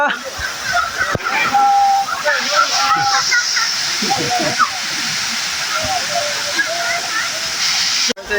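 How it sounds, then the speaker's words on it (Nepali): Pedi Khola waterfall at Shantinagar in Nepal pours with a steady, broad rushing roar and splashing water that lasts the whole time, with birds chirping over it and a person talking now and then. "पेदी खोलाको झरना शान्तिनगर 1 पेदी खोलाको झरना देख्न सक्नुहुन्छ"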